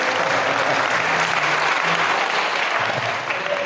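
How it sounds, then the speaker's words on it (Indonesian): Audience at a leadership seminar in a school hall bursting into dense, steady applause, loud and continuous throughout with no pauses. "Tepuk tangan untuk kita semuanya hari ini juga."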